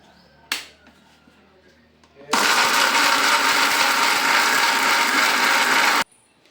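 A kitchen mixer grinder blends fried ingredients with a little water for tomato chutney. A sharp click comes first, then a loud, steady, close whirring roar runs for about four seconds before stopping abruptly.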